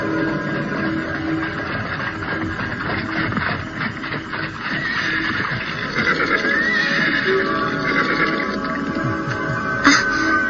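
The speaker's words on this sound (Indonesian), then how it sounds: "itu suara kereta kuda datang." A horse neighs amid steady clopping hooves and rolling wheels, with a continuous mechanical hum in the background.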